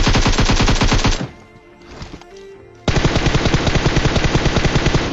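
Rapid automatic gunfire in the mobile shooter Garena Free Fire, loud and close, with a dense burst, a brief lull of softer game sounds, then another sustained volley of shots.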